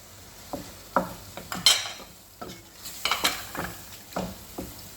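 Curd being stirred into fish biryani masala in a pot, a series of close scraping and clinking strokes at an uneven rhythm with a faint sizzle underneath.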